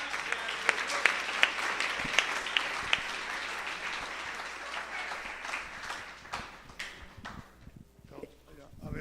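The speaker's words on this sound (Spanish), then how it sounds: "Vamos a darle un aplauso al Señor." A prayer group meeting breaks into applause, a dense burst of clapping from many people that gradually thins and fades over several seconds, with voices mixed in.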